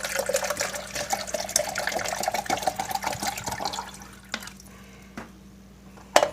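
Water poured into the tank of a Nespresso Inissia espresso machine: a steady splashing pour whose pitch rises as the tank fills, then it stops, leaving a few faint drips and clicks.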